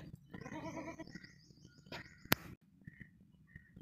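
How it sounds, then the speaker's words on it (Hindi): A female milking goat of the desi Makhi Cheeni breed bleats in a wavering, drawn-out call, then goes quiet, with faint chirping birds and soft outdoor ambience around it. "दूध वाली अच्छी बकरी है"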